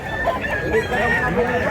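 A bullstag rooster, a fowl over a year old at a farm in Mantalungon, Cebu, gives a drawn-out crow that carries close and loud, with faint clucking and background noise around it.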